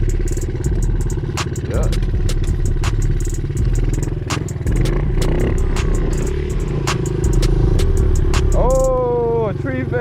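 Honda CRF pit bike engine revving hard during wheelies outdoors, a loud buzzing motor that rises and falls continuously, with clattering and people talking over it.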